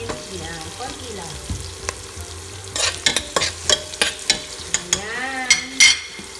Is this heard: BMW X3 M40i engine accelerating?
no